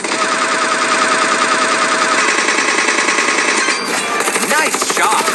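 Rapid automatic gunfire from a mobile shooting game rattles on loud and continuous, with bursts of sharper shots and game effects toward the end.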